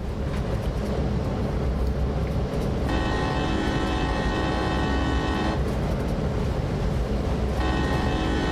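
A train engine in Train Sim World drones with a steady loud rumble and mechanical whine, its tone rising in sustained tonal stretches as it pulls out, with no talking.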